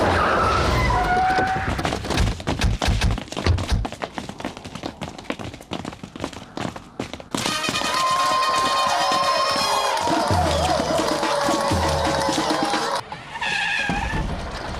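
A car drives hard along a rough road so bad it is unfit even for bullock carts, in a Hindi-dubbed action film. The rumbling and skidding are loud and continuous, and tonal music-like sounds rise over them in the second half.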